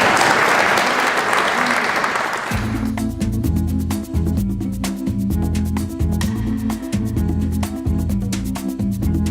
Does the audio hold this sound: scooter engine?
no